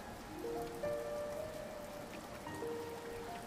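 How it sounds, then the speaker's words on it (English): Steady rain falls across the land in a soft, continuous patter, faint and even throughout with a few thin tonal lines drifting above the hiss. "the rain falls on the land"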